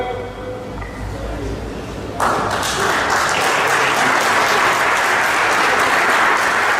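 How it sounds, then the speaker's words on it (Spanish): A church congregation bursts into strong applause after a quiet, murmuring start; the clapping then holds loud and full until the end. "Aplauso fuerte para estos valientes hermanos"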